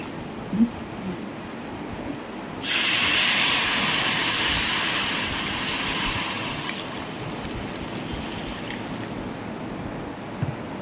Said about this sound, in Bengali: আমি এখন একটু হালকা জল দেব এই ডিমের ভিতরে হালকা পরিমাণে জল দিয়ে দিচ্ছি